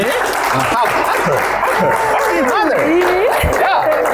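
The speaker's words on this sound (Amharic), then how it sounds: "ዝናሽ የታል ጭብጨባችሁ ደ" Audience applause at a family reunion on a televised Saturday show, a dense steady clatter of clapping that runs the whole time, with voices rising over it.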